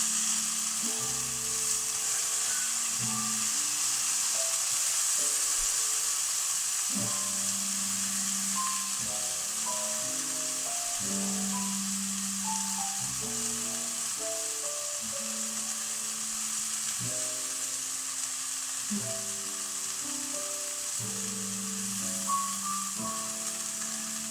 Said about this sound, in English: So, really gently fry these off.